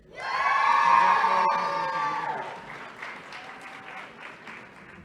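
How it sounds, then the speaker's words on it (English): A large audience applauding graduating students at a climate school class day ceremony, loud clapping with cheers and whoops that swells quickly, then gradually fades to scattered claps. "Let's give them all one more round of applause"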